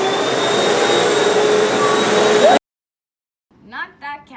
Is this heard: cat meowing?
no